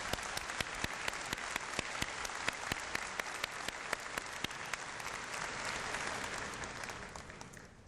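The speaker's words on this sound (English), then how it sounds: "let's give him a nice round of applause" An audience at a university convocation ceremony applauds: a full, steady round of dense clapping from a large crowd in a hall that slowly fades toward the end.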